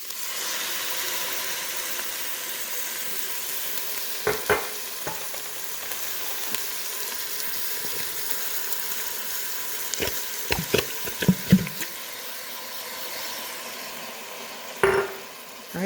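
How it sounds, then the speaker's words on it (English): Sauce added to a hot pan already sizzling with cumin, a steady close frying hiss with scattered clatters and scrapes of stirring. "And then I'm going to add my sauce."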